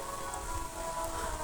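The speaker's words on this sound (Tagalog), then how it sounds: "kasi nga na ulan" Heavy rain pours down steadily outdoors at a Padre Pio shrine, a dense, even wash of patter and drops with no voices.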